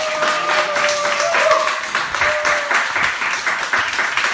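A church congregation claps and applauds during a service, producing sustained, loud, dense applause with no break.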